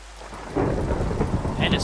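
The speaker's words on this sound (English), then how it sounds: "And it's thundering." Thunder rumbles over steady falling rain in the video game Minecraft, a sudden deep crack and roll breaking in after a quiet moment, with rain hissing throughout.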